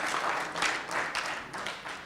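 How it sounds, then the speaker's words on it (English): A university audience applauds at a memorial lecture celebrating Moses Kotane in South Africa, a dense, sustained wash of clapping that swells and ebbs over a couple of seconds, with no voices over it. "I think you can give us a round of applause"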